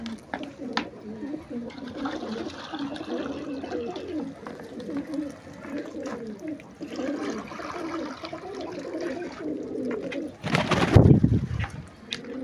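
Fighter pigeons coo continuously in soft, rolling murmurs, close by, with a brief splash of water near the end as they are given water.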